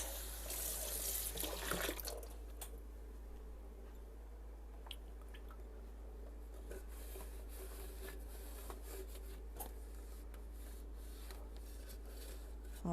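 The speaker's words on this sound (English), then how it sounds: "I'm going to rinse out this." Tap water runs into a sink while something is rinsed under it, a steady splashing stream with a louder burst in the first two seconds and small clinks scattered over a constant hiss, no voices over it.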